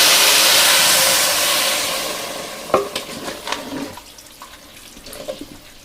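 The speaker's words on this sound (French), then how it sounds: "Là moi je mets mes 2 cubes et directement du coup mes 700 ml d'eau." Water, 700 ml, poured into a risotto pot with two stock cubes, a loud close gushing rush that fades out, followed by a few stirring knocks and clinks against the pot.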